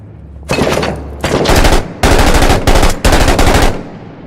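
Loud, close bursts of automatic gunfire from the combat game Six Days in Fallujah, several sustained volleys of rapid shots separated by brief pauses.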